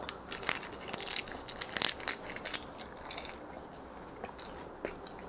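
Biting and chewing a convenience store rice roll filled with crab salad, carrot and chili, with repeated crisp crunchy bites and moist chewing close to the mic, no talking.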